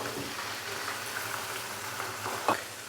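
Steady crackling sizzle of chicken frying in hot oil, continuous and fairly quiet, with a brief louder burst near the end.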